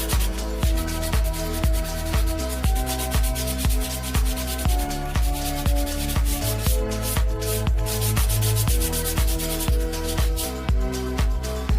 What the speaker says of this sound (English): We use sandpaper to even it out.